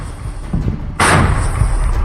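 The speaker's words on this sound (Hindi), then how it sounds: "विनाशकारी बम धमाकों से पूरा इलाका दहल उठा।" A loud, heavy blast from a bomb or artillery strike in war footage, a deep rumble that suddenly swells into a broad, sustained roar lasting to the end.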